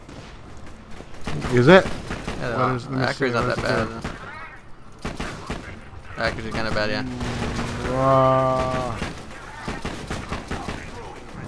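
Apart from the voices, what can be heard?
gunfire in Borderlands 2 video game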